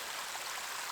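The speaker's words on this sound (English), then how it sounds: "just a little bit of water that's flowing underneath that cap of ice that's behind us." A small stream of water flows beneath a frozen cap of ice at Alberta Falls in the Rocky Mountains, giving a steady, soft, hissing rush with no voices.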